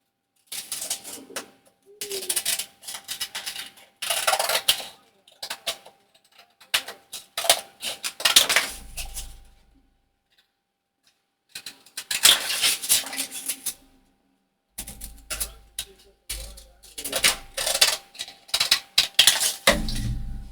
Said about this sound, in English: My scissors. And we'll cut around these.